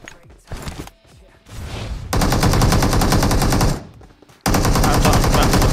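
Gunfire rings out in a video game, starting with scattered loud shots and building into long, dense bursts of rapid automatic fire, close and overpowering, broken by a short gap.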